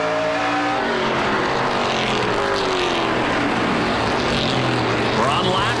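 Dodge stock cars in a NASCAR Pinty's Series race at the Bumper to Bumper 300 roar continuously and loudly, one pack running close behind another. A commentator talks over the constant engine noise.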